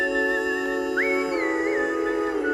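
A clear, steady whistled tune with a few upward slides between notes, sustained over a soft background hum.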